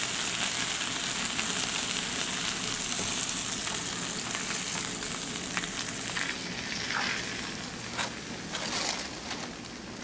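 Thinly sliced pork belly fries in a pan with a loud, steady, close sizzle and crackle of spattering fat, a few sharper pops toward the end, no talking.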